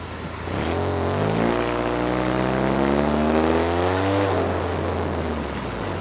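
Turbocharged-sounding car engine droning steadily and loudly up close, rising in pitch as it accelerates, then holding a sustained note to the end.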